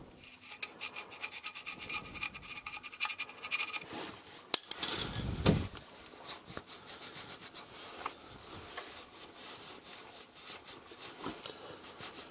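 Rag or hand rubbing and wiping grime off the oil filter seat of a Peugeot 307 HDi engine: close, dry scraping strokes, with a sharper knock midway, no talking.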